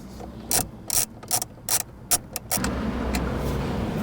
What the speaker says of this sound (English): we'll remove the nut on the driver's side and do the same thing on the passenger side